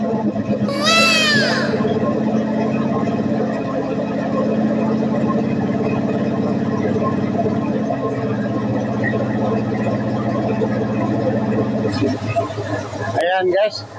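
A vintage car engine runs steadily after its belt has been fitted, a loud continuous idle with a strong low hum that holds throughout. Someone talks over it, and there is a brief clatter near the end.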